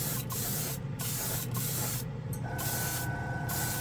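An Iwata RG-3L spray gun sprays paint for scale car model kits: a steady, close airy hiss that runs the whole time, with brief breaks and surges as the trigger is worked.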